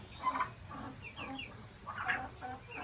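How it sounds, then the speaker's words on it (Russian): Freshly hatched young chicks on a small home farm peep and chirp in short, high repeated calls, several birds close by in a quiet setting with no talk. "Все цыплята вывелись. И вот они сейчас перед вами."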